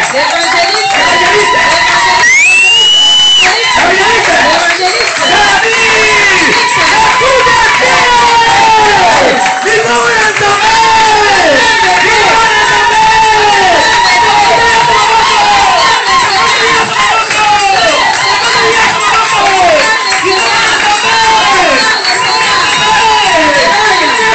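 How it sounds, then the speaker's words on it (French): A church congregation erupts in loud, sustained cheering and shouting to welcome an evangelist, a dense crowd roar with whoops and raised voices carrying on without a break for over twenty seconds. "Avec vos acclamations, nous allons accueillir l'évangéliste."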